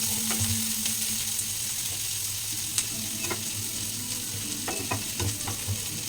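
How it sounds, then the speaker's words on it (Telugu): Onions frying in a pan toward golden brown for egg curry, a dense close sizzle with scattered spatula clicks and scrapes as they are stirred, no talking. "గోల్డెన్ బ్రౌన్లో వేపుకోవడమే."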